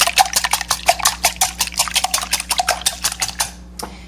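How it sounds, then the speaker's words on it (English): Eggs are whisked briskly in a large measuring cup, giving a fast, even run of sharp clinks and taps close up before the strokes stop and leave a brief quiet. "I've broken the eggs into a larger measuring cup. I'm going to give these a whisk."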